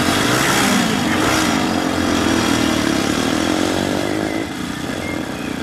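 An old motorcycle engine, brought back to life after many years, runs steadily and loudly close by with a rough, buzzing note and slight revving, easing off a little near the end.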